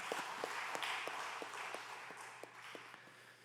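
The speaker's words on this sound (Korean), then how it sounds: "우리도 한번 박수 칠까요?" A church congregation claps together during a Sunday afternoon service, a steady patter of many hands with sharper individual claps standing out, moderately distant and fairly faint, with no talk over it.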